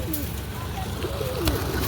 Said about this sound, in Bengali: কালদমের মধ্যে একটা পায়রা দেখান।